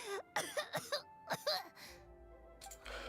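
A female game character's voiced coughing fit in Genshin Impact: several close, harsh coughs in an uneven burst with throaty, strained breaths and a whimpering moan between them.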